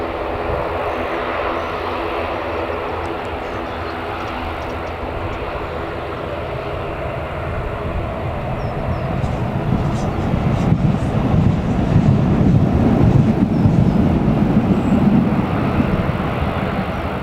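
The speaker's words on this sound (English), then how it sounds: "it sounds like that ATR is getting a little bit louder" An ATR turboprop airliner at Newcastle Airport drones steadily in the distance, its engine noise swelling louder toward the end, with no talk over it.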